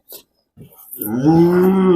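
A large dairy cow moos loudly at a wholesale cattle market, one long, drawn-out call that swells and holds to the end, preceded by a few brief, faint sounds.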